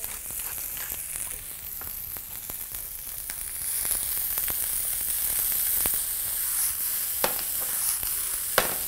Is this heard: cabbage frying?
yes